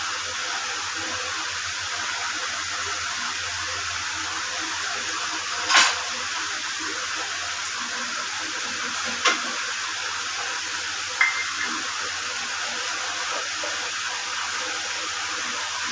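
Constant hissing sizzle of fritters frying in hot oil, with a couple of sharp pops and crackles breaking through the steady spray.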